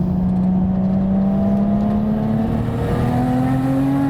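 A single-turbo 620 bhp Nissan Skyline R32 GT-R engine accelerates hard at full power, its loud droning pitch climbing steadily with a whirring turbo whine on top.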